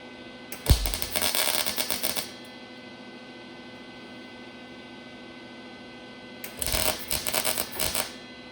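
Two bursts of tack welding on sheet metal of a 1951 Chevy three-window truck, each about a second and a half long with a crackling, buzzing arc, and a quiet stretch between them with no talking.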